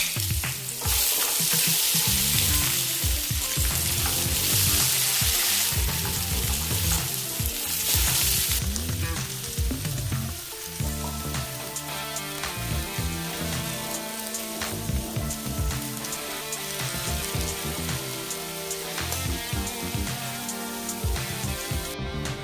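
Potatoes fry with turmeric and chili powder for a Bengali rohu fish curry, giving a loud, steady sizzle with stirring scrapes. The hiss is dense and bright at first, then eases into a softer crackle.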